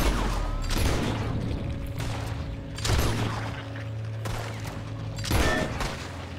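Gunfire in Red Dead Redemption Online, with several loud bursts of shots and booming reports spread across the stretch over a constant low rumble, with no talking.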